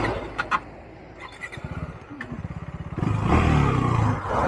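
A motorcycle that stalled during a top-speed run is restarted: a few seconds of rhythmic mechanical ticking and cranking, then the engine catches and runs loud and steady, close by.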